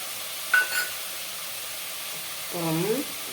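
Soft sizzling in a frying pan while sautéing for sambar rice, with a brief clink of a utensil and a short stir scrape near the end.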